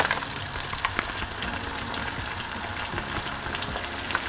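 Tomato sauce with shrimp simmers and reduces in a pan, a soft constant bubbling sizzle with small pops, near and moderately quiet.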